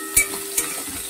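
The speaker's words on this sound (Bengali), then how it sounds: "দিয়ে আমি 1 মিনিটের মধ্যে পেঁয়াজগুলোকে ভেজে নেব" Chopped onions frying in hot oil, a soft continuous sizzle with two brief louder bursts as they are stirred, close and alone.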